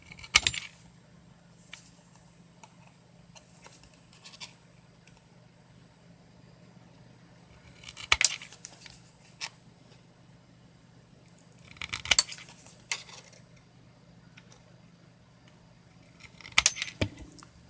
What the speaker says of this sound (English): take your tin snips and cut off the corners that you drew in there earlier at a 45-degree angle